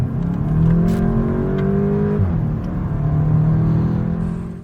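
A Volkswagen Golf 8 GTI with 245 horsepower accelerates hard with the pedal floored, its engine droning and rising steadily with a brief dip at a gear change, loud and close inside the cabin.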